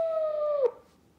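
A wolf gives a single sustained howl on one steady pitch that drops and cuts off abruptly after about half a second, leaving quiet.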